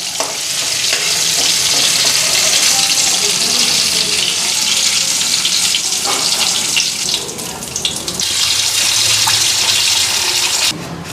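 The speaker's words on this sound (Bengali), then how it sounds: "আর পনিরটার মধ্যে একটু জল দেওয়া দেবো আরও সফট থাকবো পনির" Water is poured onto paneer in a home kitchen pan, a loud continuous hiss and splash close by, with sizzling and clinking, dipping briefly partway before resuming.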